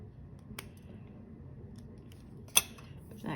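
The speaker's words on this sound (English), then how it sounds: "This one has a little piece right here we're going to clip off with the scissors." Scissors snip off a small excess piece of cured resin, two distinct sharp clicks, the second louder, with quiet handling noise and soft rustling around them.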